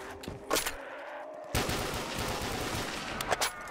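A gun fires in a Black Ops Zombies game on a custom Yukiko's Castle map. After a brief quieter shot or two, a loud, sustained stretch of rapid automatic fire follows with no voice over it.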